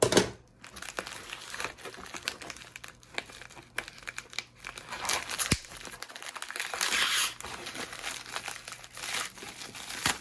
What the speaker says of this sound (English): I just gotta cut this open, y'all.